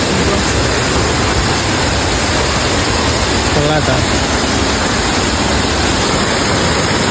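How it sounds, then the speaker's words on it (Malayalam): A small waterfall in Idukki gives off a dense, steady roar of rushing water that fills the whole scene, with a brief spoken remark over it. "ഒരു ചെറിയ വെള്ളച്ചാട്ടം കണ്ട് നിർത്തിയതാണ്"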